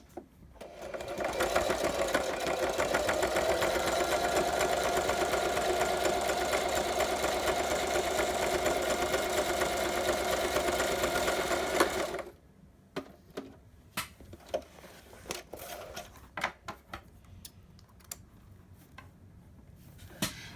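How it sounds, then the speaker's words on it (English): Sewing machine stitching a tri-fold folio journal, a loud steady whirring run for about twelve seconds that stops abruptly, followed by scattered small clicks and handling noises. "let me get this last one sewn"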